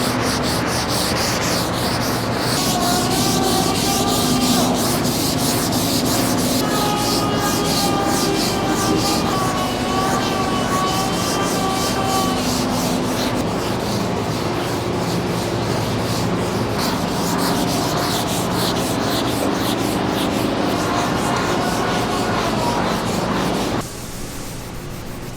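A skinny sanding block scrubs across a car hood being prepped to fix a bad paint job, loud rhythmic rasping strokes repeating steadily up close until they stop just before the end.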